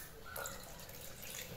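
Water being added to a pot of oatmeal during breakfast preparation, a soft, faint trickle and splash heard up close with no talking.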